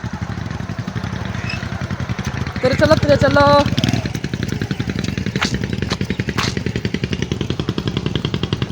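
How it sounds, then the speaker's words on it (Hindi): A motorcycle rolls slowly along in a guava garden, its engine putting out a steady, close, rhythmic thump. A voice speaks briefly partway through. "बाइक चलाओ हौली हौली"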